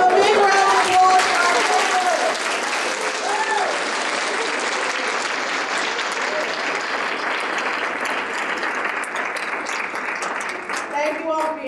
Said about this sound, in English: Can we have a big round of applause?